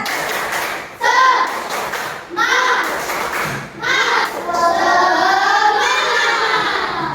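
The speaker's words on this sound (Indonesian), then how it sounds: "Oke, tepuk semangat." Classroom children perform the 'tepuk semangat' spirit clap, chanting together in high voices punctuated by sharp rhythmic hand claps, loud and close in several short rounds.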